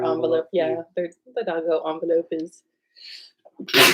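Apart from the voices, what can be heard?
sneeze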